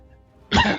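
A single short, rough cough or throat-clear from a man, fairly close and moderately loud, breaking a quiet moment.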